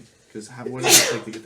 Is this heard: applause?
no